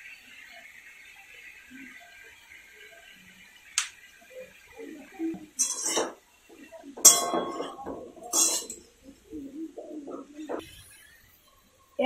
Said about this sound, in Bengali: এবার ঢেকে দিয়ে দিলাম।